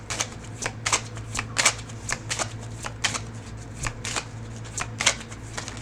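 Tarot cards shuffled by hand in quick, crisp riffling bursts, roughly a dozen sharp rustles spaced about half a second apart, close and clear over a low steady hum.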